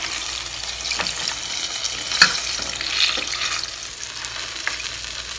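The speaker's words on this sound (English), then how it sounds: "You hear that sizzle?" Chicken sizzles in hot oil, a steady crackling hiss with occasional sharper pops and spatters, close by.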